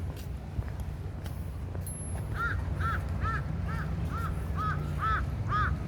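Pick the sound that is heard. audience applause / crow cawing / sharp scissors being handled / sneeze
crow cawing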